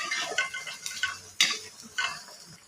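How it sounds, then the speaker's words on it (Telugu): Okra being stir-fried in a pan, a few close scraping stirs of a spoon against the metal over a light frying hiss, with no talking. "ముందుగా బెండకాయలన్నీ కొద్దిగా దోరగా వేయించుకోవాలి ఇలా కలుపుకుంటూ వేయించుకోవాలి"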